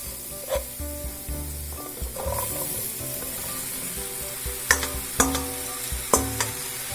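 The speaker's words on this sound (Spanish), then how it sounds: "Las vamos a mezclar bien mezcladitas para que tomen el sabor de los ingredientes que ya agregamos" Potatoes being stirred into a pot of chicken soup base with butter, leek and celery, with a soft sizzle and scraping spoon strokes, a few sharper clinks near the end, close and moderately loud.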